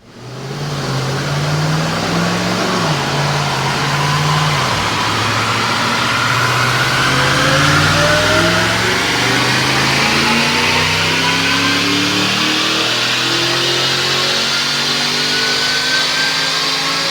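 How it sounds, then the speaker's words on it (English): A supercharged 2009 Ford Mustang GT automatic with an Edelbrock kit at about 8-9 PSI makes a full dyno pull. It is loud and close, and the engine and blower whine climb steadily through the gears for over fifteen seconds. "Check out this dyno pull."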